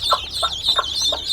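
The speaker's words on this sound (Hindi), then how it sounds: "देखिए ये मुर्गियों के चूजे हैं" Newly hatched chicken chicks in a brooding crate peep continuously in high, rapid chirps, with a few soft lower calls mixed in, close by.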